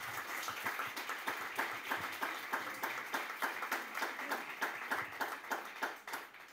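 An audience claps in a fairly rhythmic pattern, a modest group of hands producing distinct, evenly spaced claps that sound slightly sparse and roomy, tapering off at the end.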